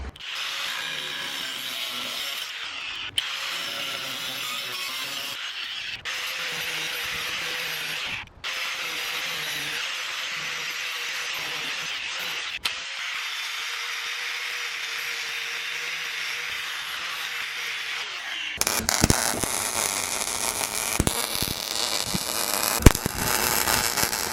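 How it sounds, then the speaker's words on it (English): An angle grinder cuts off a metal piece on a lifted Club Car Precedent limo golf cart, a steady loud whine broken by short pauses, then a harsher, crackling burst of grinding toward the end. "it's time to do what I don't want to do and grind this off so we can weld it to it"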